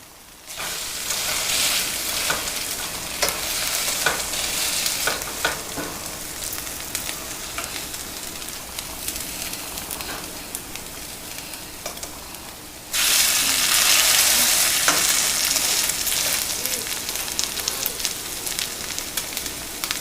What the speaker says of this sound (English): How did you enjoy that beautiful sizzle coming out from that pot?